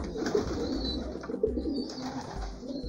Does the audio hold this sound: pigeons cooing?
yes